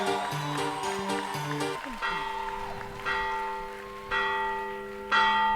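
A school bell rings in several electric bursts with tonal overtones, loud and close, separated by short pauses, with a classroom murmur underneath.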